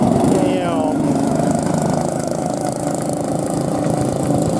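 A Treffy microcar, a small kids' car with a two-stroke engine, runs at an outdoor classic car weekend, giving a continuous buzzing, mower-like engine drone close by with a faint voice under it.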